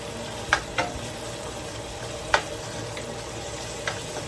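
Ground beef frying in a pan while cooking spaghetti, a steady low sizzle heard close, broken by a few sharp clacks from stirring, with no talk.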